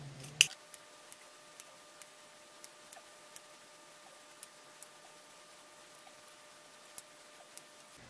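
Scissors trim excess fabric from a sewn coat, giving a series of crisp, sharp snips spaced irregularly over quiet background.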